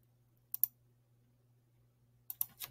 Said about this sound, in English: now we type in owner